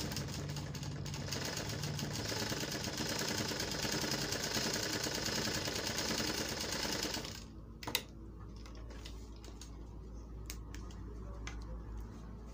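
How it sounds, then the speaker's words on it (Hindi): A sewing machine stitches through thick cloth with a rapid, continuous mechanical rattle for several seconds, then stops abruptly, followed by a sharp click and a few light handling sounds. "ये मोटा कपड़ा का आवाज़ है, थोड़ा आवाज़ रहती है मोटा कपड़ा पे"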